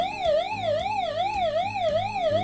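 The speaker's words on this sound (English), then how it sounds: "So it does have a very loud siren in here to attract attention" A loud electronic SOS siren from a handheld emergency radio wails in a fast, steady up-and-down sweep, continuous and close with no voices.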